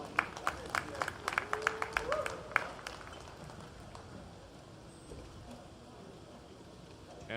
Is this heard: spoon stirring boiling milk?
no